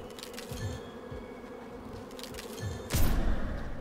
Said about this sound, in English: I got plenty of bees.